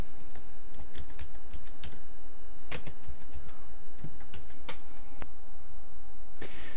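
Uneven clicking of keys on a computer keyboard, close and fairly loud, with a few sharper taps.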